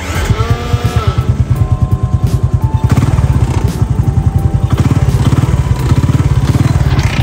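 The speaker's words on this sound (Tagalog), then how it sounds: "So iniram ko muna itong motor ng kuya ko." A motorcycle engine idling and revving nearby in San Juan, Batangas, loud rapid rhythmic putter throughout with pitch rising and falling.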